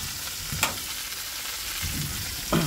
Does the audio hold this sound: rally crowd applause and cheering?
no